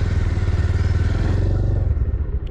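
A motorcycle engine runs loudly close by with a throbbing, pulsing rumble, then cuts off and fades out near the end, with no talk.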